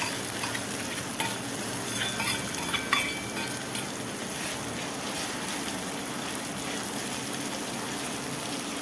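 Spice masala with curry leaves and tomato sauce frying in hot oil for a Kathiyawadi whole-onion curry, a continuous close bubbling sizzle with occasional stirring clinks and no talking.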